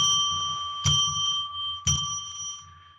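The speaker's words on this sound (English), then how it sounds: "I ring that bell 3 times to declare sacred space" A hand bell rings with sharp metallic strikes, two of them clearly audible, and each leaves a long, shimmering decay in a quiet room.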